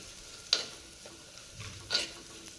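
Green chili paste fries quietly in oil with cumin seeds, giving a faint, soft sizzle broken by two brief stirring scrapes.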